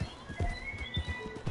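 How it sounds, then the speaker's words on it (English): Horse hooves clip-clopping at a steady walking rhythm in Red Dead Redemption, close and moderately loud, repeated soft thuds over faint ambient noise. "we riding horses"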